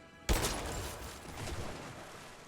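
A single sharp gunshot fired in the video game Rise of the Tomb Raider, loud and close, its crack trailing into a long rumbling echo with a softer swell of game ambience afterward.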